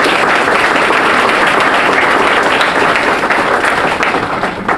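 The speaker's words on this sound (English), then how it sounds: "And I think we should give them a round of applause." Sustained applause from an audience at an education awards ceremony, dense and steady clapping filling the room at a loud level, tapering slightly toward the end.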